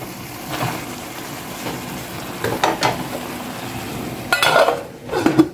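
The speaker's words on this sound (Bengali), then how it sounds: "আমি ঢাকনাটা খুলে নেড়ে ছেড়ে দিচ্ছি।" A lid clatters off a pot of chicken and bottle gourd curry, then a spoon scrapes and stirs through the sizzling mixture, with louder metallic knocks near the end over a steady frying hiss.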